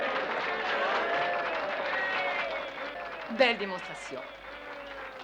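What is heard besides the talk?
crowd applauding Charlie's victory at a demonstration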